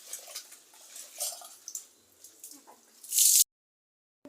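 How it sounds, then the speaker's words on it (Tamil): Food is washed in water in a cooking pot for a lentil sweet: soft sloshing and splashing with scattered drips, ending in a brief louder splash before silence. "நம்ம 2 வாட்டி இதை கழுவி எடுத்துக்கலாம்."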